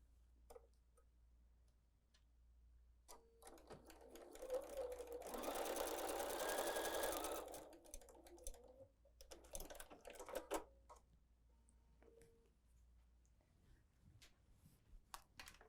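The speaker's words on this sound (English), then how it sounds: "let's just sew the other one on too" A sewing machine stitches a table runner in a quiet room, running in one steady mechanical burr for a few seconds, framed by scattered clicks and fabric handling before and after.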